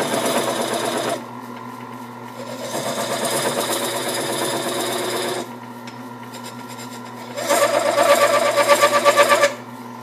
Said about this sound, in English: Got the lathe turned down pretty, a little slower than normal, but it makes a good cut.